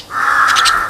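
A tame crow gives one loud, close, harsh caw that is drawn out for nearly a second, heard alone.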